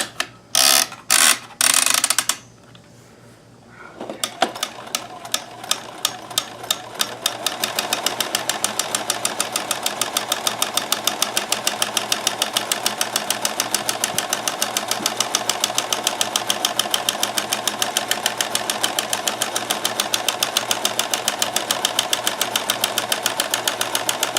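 Kenmore 158.1914 sewing machine stitching with a monogrammer attachment and stabilizer: a few sharp starts, a brief pause, then a fast, steady mechanical clatter of rapid repeated stitches running continuously and loud.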